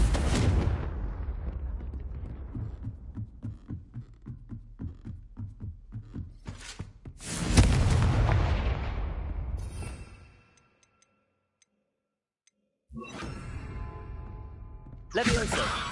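Magical blasting-curse explosions from the Hogwarts Legacy video game: a run of rapid crackling bursts builds into a loud broadband boom, falls silent briefly, then returns with further blasts, with a voice speaking over parts of it.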